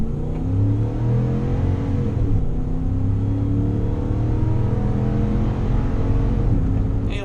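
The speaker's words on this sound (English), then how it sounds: "No fuss from the V8, just a nice muted roar from the front of the car." A Toyota Sequoia's V8 accelerates up to 60 mph from inside the SUV, giving a steady, muted engine roar that holds continuous and fairly loud throughout.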